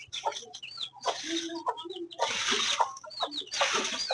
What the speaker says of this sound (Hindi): और ये रहे हमारे चूजे